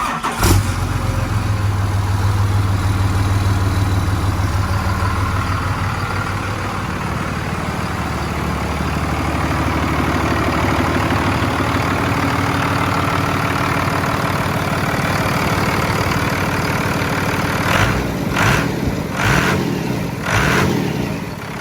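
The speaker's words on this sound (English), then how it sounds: "let's go ahead and listen to that startup now." A Cummins diesel with a freshly installed VP44 injection pump in a Ford Excursion swap cranks, fires, and settles into a loud, close, steady rumbling idle, with a few sharp knocks near the end.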